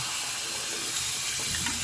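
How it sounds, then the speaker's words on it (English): Water from a running tap splashes steadily as hands are rinsed of antibacterial soap, a continuous close hiss with no talk. "I'm gonna go ahead and rinse one more time."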